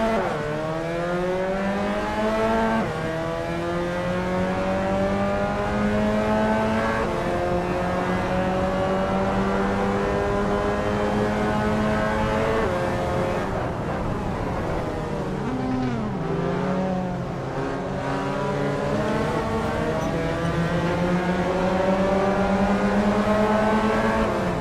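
Mazda MX-5 race car engines in a racing simulator game rev up and down through the gears, the pitch climbing and dropping as the cars accelerate and brake, loud and continuous with other engines droning alongside.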